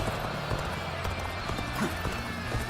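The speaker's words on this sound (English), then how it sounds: "Back on the horse, back on the horse, back on the horse" Steady clip-clop of galloping hooves under a busy, continuous Dynasty Warriors: Origins game soundscape, moderately loud with no pauses.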